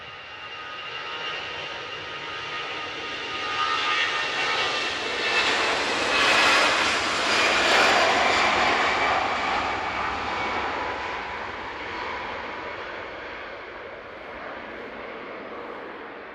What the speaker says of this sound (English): EasyJet on their way out.